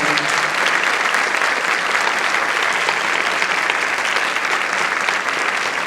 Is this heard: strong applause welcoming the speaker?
yes